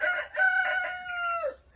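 A rooster mating with hens crows once nearby, a loud drawn-out call that breaks off at the end, with a faint low rumble beneath.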